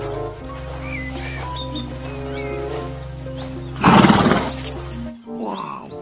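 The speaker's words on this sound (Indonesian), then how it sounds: "Wow, ini hewan kuda teman-teman." An animal call rings out over a looping music bed in a children's animal-cleaning cartoon: a loud, rough burst around the middle that tags as a horse-like whinny or roar, then a short squeaky call after the music cuts.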